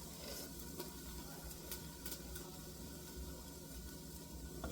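Garlic sizzles in a pan as soup cooking begins, a faint, steady frying hiss with soft crackles and a low background hum, no talking.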